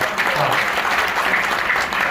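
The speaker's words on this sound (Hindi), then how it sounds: "एक बार जोरदार ताली बजाओ।" A Hindi poetry gathering audience in Ghaziabad bursts into loud, dense applause that stays steady and close throughout.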